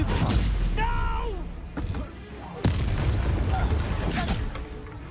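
Spell blasts crackle and boom through Hogwarts Legacy combat, loud bursts with shifting magical tones layered over shouting voices and dense battle noise.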